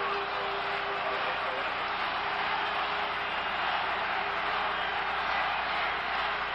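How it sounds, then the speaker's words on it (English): A steady, dense roar from a stadium crowd at a Canadian football game between the Montreal Alouettes and Edmonton Eskimos, holding at an even level throughout with no clear breaks. "Listen to this crowd."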